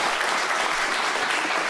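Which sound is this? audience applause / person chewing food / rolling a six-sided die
audience applause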